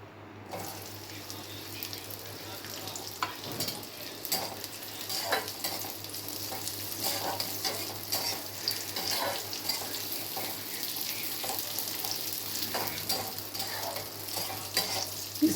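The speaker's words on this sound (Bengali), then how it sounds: "এবার এগুলো তুলে আমি কিশমিশটাকে একটু নাড়াচাড়া করে নেব" Raisins frying in a pan for carrot halwa, stirred steadily through a continuous crackling sizzle, with soft scraping of the spoon, close and fairly even throughout.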